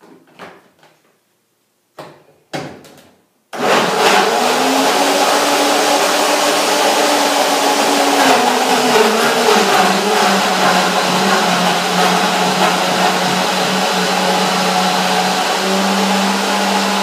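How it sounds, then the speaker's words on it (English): Soaked strawberries in a blender, a few short clicks and bumps first, then the motor starts and runs as a loud, steady whirring drone with a shifting pitch as the fruit breaks down. "blender do its work"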